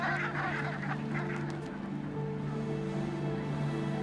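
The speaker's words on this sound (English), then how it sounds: "Brent geese are gathering in large flocks, ready to fly south." A flock of brent geese gathering on the tundra in August calls continuously with overlapping low honks and murmuring, heard from a moderate distance.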